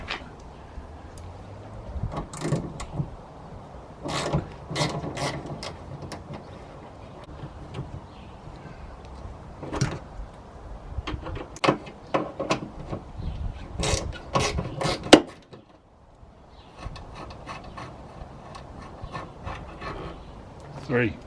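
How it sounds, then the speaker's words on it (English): Three 8mm bolts being loosened from the rear wiper motor mount of a second-generation Ford Focus, heard as repeated close ratchet clicks in quick bursts with pauses between them. "So let's get these bolts. So them 3 bolts are an 8mm."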